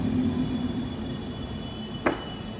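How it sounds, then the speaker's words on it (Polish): The Intercity Sobieski train runs through Katowice station, a steady rumbling roll with a squeal early on and a single sharp metallic clank near the end. "I został już odprawiony skład Intercity Sobieski."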